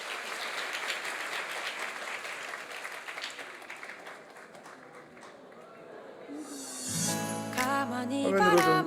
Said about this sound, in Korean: 우리 환영하는 마음으로 박수하겠습니다.